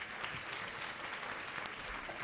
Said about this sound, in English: I think we must give them another big round of applause.